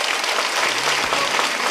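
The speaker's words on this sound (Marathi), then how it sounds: "करताय वाजवणाऱ्या करता एकदा जोरात टाळी होऊ द्यावं" An audience at a devotional kirtan claps loudly, a dense, steady burst of applause that fills the whole short moment with no voices on top.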